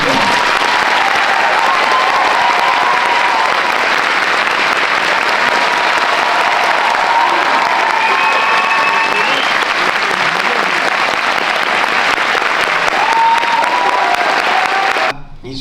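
Warm audience applause fills a hall at the Angoulême comics festival to welcome manga artist Makoto Yukimura, dense sustained clapping lasting about fifteen seconds before cutting off abruptly.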